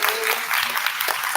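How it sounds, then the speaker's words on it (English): Brief burst of applause for teachers at a summer academy orientation, dense clapping from a gathered audience filling the short moment. "Can we clap it up for our teachers for being here this summer?"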